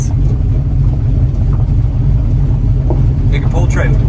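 LS-swapped 1967 Chevy C10 pickup rolling slowly along a dirt road, a loud steady low engine rumble and cabin drone with no revving, heard from inside the truck.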